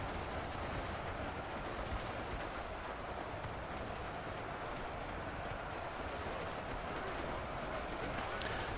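Gunfire rattles in the video game Ultimate Epic Battle Simulator 2 as a faint, continuous wash of battle noise, shots blurring into a dense crackle that stays steady throughout.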